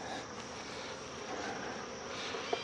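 Honeybees buzzing around a hive in mid-August, a steady, dense hum from many insects close by with no talking, broken once near the end by a brief faint tap.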